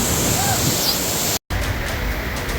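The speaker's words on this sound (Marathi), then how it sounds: "पाण्याचा आवाज वरून पडणारा पाऊस" A waterfall's constant roar of falling water mixed with rain fills the scene, loud and unbroken apart from a brief cut midway.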